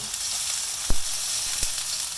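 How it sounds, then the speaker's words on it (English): Meat sizzling and frying in a hot pan, a steady hiss broken by a couple of soft knocks. "and then we'll give this a fry"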